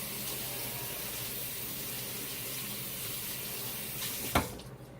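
Kitchen tap running steadily over a grass-fed chuck roast being rinsed, a continuous close splashing hiss that briefly surges near the end, with no speech.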